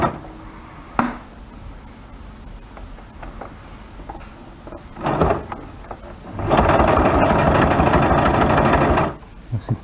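A sewing machine stitching a seat cover for a 1989 Renault Super 5 driver's seat, starting with short hesitant bursts and small clicks, then running in a loud, steady rapid chatter for a few seconds before stopping.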